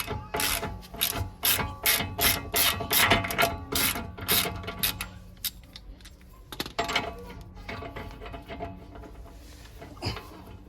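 A ratchet wrench works on a wheel bearing bolt of a VW Polo MK5, giving rapid loud metallic clicking bursts up close, then slowing to scattered clicks and clanks.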